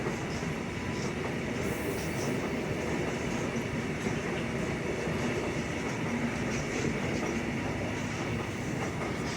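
Railway cars rumble and clatter through Poznań Starołęka station, a continuous close, loud rolling roar with rhythmic wheel clicks and faint squeals.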